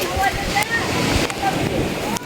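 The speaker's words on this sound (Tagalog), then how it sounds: "Kusog na ilang tubig oy." Strong water rushes and sloshes continuously at a beach resort, loud and close, with people talking over it.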